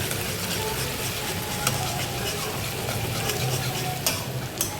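Onion, tomato paste, ginger and garlic sautéing with curry leaves in oil, a steady dense sizzle with occasional stirring scrapes and small clicks of a utensil against the pan.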